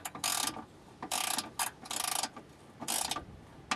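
Ratchet wrench tightening a bolt on the stabilizer bar of a 2002 Mazda 626 LX, four bursts of rapid ratcheting clicks with brief pauses between, close and fairly loud.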